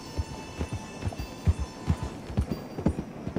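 Horse hooves clop in a steady, rapid gallop rhythm within the Red Dead Redemption 2 video game, a dozen or so distinct thuds over a low engine-like hum, fairly close and moderately loud with no talk.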